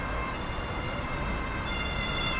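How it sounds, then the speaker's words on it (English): A steady siren wails at a distance over the constant broadband rumble of Frankfurt airport, holding an even pitch throughout with no voices. "Is that a siren of celebration?"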